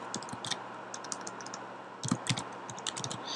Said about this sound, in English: So if I go ahead and type in a web address